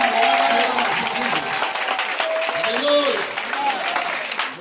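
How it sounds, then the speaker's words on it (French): Applause from a congregation at a prayer and deliverance vigil: dense, loud continuous clapping that fills the room, with a voice calling out over it. "Nous acclamons fort Jésus."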